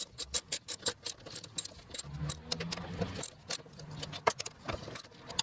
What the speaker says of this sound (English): So now I just need to get these little bolts in across the top.